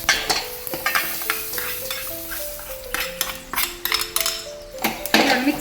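A sizzling mustard-seed and curry-leaf tempering is stirred into raw mango kosambari in a Kerala kitchen. A spoon clinks and scrapes steadily against the vessel over a soft, continuous crackle, and no one talks.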